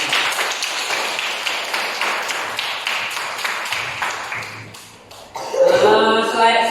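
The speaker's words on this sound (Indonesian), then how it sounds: "Tepuk tangan untuk kita semua." A school class claps hands together in a run of sharp, rapid claps that thin out and fade, followed by a voice speaking loudly near the end.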